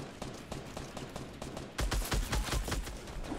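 Rapid automatic gunfire in Fortnite Battle Royale, loud bursts of shots crackling in quick succession, growing heavier and denser partway through the short stretch.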